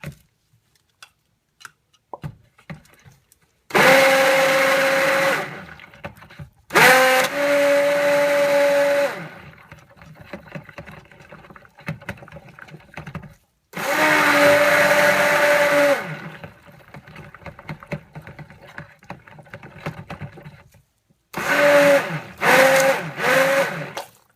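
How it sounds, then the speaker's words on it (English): A stick blender whirs loudly while mixing cold process soap, in several separate bursts of a few seconds each, with quiet gaps and light handling noises between. "hit them each with a stick blender."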